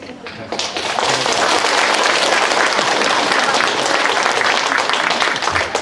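A church congregation at a senior college end-of-term service applauds the pastor's sermon, loud, dense clapping that starts abruptly and keeps a steady, close roar to the end.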